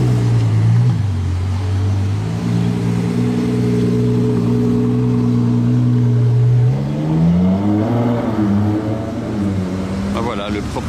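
Supercar with bright blue seats pulling away on its very first laps after delivery, a loud, steady engine drone rising in pitch and revving near the end, with people talking over it throughout.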